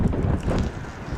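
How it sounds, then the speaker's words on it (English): Cold wind gusting across the dockside at Barclay Dock in Barrow-in-Furness, a steady rumbling buffet of low noise on the microphone, fairly loud and continuous with no voices. "It's a bit cold and windy today,"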